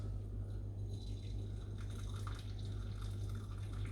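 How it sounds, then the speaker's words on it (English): Water being poured into a separate bowl for making matcha, a steady continuous splashing pour with bright trickling detail throughout, close and fairly quiet, with no one talking. "that's why you want to pour your water into a separate bowl"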